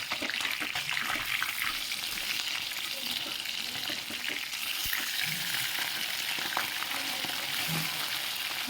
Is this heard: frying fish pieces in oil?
yes